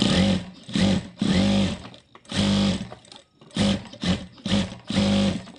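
A sewing machine stitching fabric in repeated short bursts of rapid mechanical whirring, separated by brief pauses, close and fairly loud with no voices.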